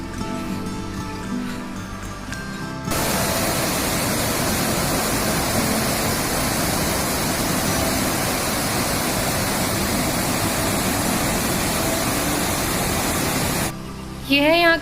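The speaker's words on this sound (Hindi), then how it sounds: "अब मैं आपको दिखाऊंगी बहुत बड़ी सी नदी।" A big river in the Uttarakhand hills roars with a loud, steady rush of water heard close up, with a voice briefly at the start and end.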